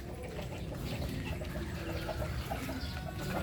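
Chickens clucking in a backyard coop during the rainy season, a busy, continuous murmur of overlapping clucks and calls from several birds at moderate distance, with a faint watery background.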